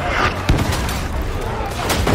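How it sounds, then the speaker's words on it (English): A grenade blast in Warhammer 40,000: Darktide, a loud sharp boom amid ongoing gunfire and combat noise, with a voice shouting nearby. "Grenade!"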